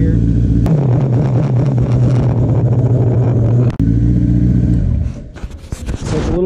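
A 2008–2010 Kawasaki ZX10R sport bike fitted with a race unit holds a steady, loud engine rev on launch control in first gear, a sustained drone that briefly dips before settling and tailing off into quieter sputters near the end.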